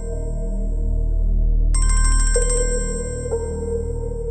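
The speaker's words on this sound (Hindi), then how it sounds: "भाई का फोन है" A phone ringtone plays indoors: a low tone first, then a bright, rapidly pulsing electronic melody that breaks off into a steady single note, moderately loud over a quiet background.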